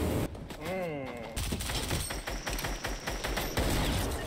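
Rapid gunfire bursts in a video game as the player comes under sniper fire, sharp cracks repeating close and loud over a shouted voice near the start.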